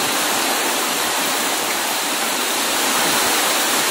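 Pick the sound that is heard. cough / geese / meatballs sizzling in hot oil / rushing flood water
rushing flood water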